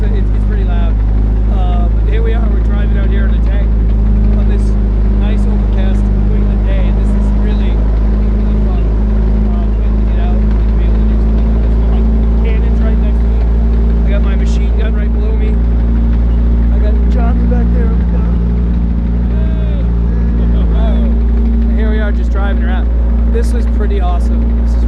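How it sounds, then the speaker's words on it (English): A Sherman tank's engine drones loud and steady while the tank is driven outdoors, a constant heavy rumble filling the whole stretch with a person talking over it throughout. "I wonder if you can even hear me over the motor. It's so loud."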